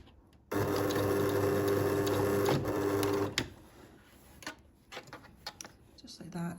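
A sewing machine stitches diagonally across a placket piece on a shirt sleeve, running steadily and loudly for about three seconds before stopping, followed by faint handling noises.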